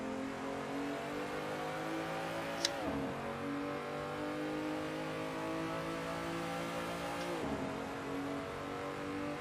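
A car engine in a sim racing game at the Assen circuit drones steadily at high revs for the whole stretch, with brief dips around two gear changes.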